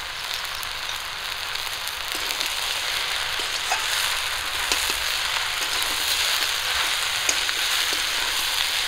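Potatoes and water spinach fry in a pan, giving a dense, steady sizzle and hiss that stays loud and even throughout, with no talking.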